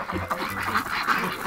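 Several ducks quacking close by in overlapping, nasal calls, a busy cluster of honking quacks over a noisy outdoor background.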